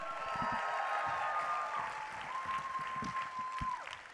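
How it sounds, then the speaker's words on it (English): Steady applause rolls through the audience at a science comedy night, moderately distant and sustained, with a few louder individual claps and a brief whistle near the end. "keep the applause going for our very last speaker"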